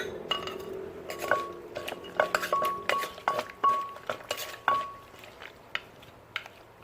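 Thai rice noodle papaya salad is mixed and pounded in a bowl, giving irregular clinks and knocks of utensils against the dish, some sharp and ringing, others dull, spaced unevenly over several seconds.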